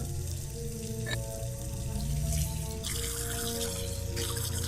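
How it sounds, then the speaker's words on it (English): Running water rinses a rusted object at a sink in the puzzle game Penelope Pendrick & the Art of Deceit, a steady close-up splashing stream with one brief clink partway through. "Remove the rusted object from the bucket and rinse in running water."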